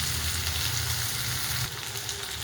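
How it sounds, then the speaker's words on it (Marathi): Tomato, onion, grated coconut and garlic fry in hot oil for a ridge gourd vegetable dish, giving a steady, close, continuous sizzle with no voices over it. "एक मोठ्या आकाराचा टमाटा घेतलेला आहे, तो पण टाकून घेते."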